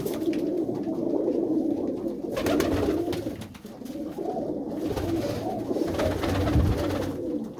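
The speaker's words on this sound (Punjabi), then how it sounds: "ਬਹੁਤ ਹੀ ਸੋਹਣੇ ਸੋਹਣੇ ਕਬੂਤਰ ਨੇ ਵੀਰ ਉਹਨਾਂ ਦੇ ਕੋਲ" Pigeons at a loft in Mullanpur Kalan, Mandi Gobindgarh, coo in a steady, overlapping murmur that runs throughout, with soft rising swells; no voices are heard.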